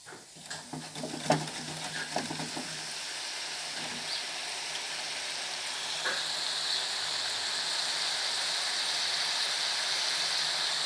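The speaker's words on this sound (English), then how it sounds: "So we're going to fry it now for the second time." Fresh-cut french fries in hot oil for their second frying, giving a steady, bright sizzling hiss that swells and holds after a few soft kitchen clatters at the start, close and continuous.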